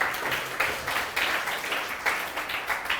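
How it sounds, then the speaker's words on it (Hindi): Audience applause at a workshop on cracking the UPSC exam: a steady wash of many hands clapping at moderate volume, swelling in small waves through the short stretch with no talk over it. "वाह, शानदार, जोरदार तालियां।"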